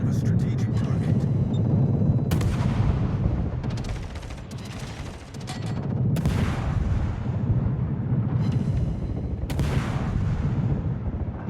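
Naval guns on a Clemson-class destroyer in a warship video game fire in heavy booming salvos with long rumbling decay, several volleys across the span, loud and continuous.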